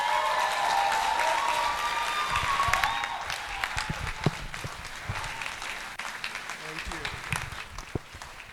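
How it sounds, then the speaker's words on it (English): Audience applause at the close of a talk at a UNILAG event: a steady wash of clapping from a large crowd that thins slightly after a few seconds and carries on, with a voice speaking over it. "you have to be generous with your applause"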